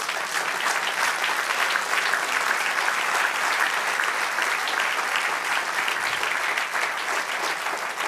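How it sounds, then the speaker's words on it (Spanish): A church congregation applauds in praise of the Lord, a dense, steady wash of many hands clapping that fills the whole stretch at an even level with no talk over it. "Denle un aplauso al Señor"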